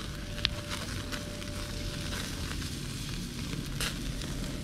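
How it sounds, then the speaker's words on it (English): Butter sizzles and crackles steadily in a hot pan as fish fillets sear, a dense close frying hiss with scattered pops and a brief metallic clink, with no talk. "All that butter burning. Okay. Nice little char going here."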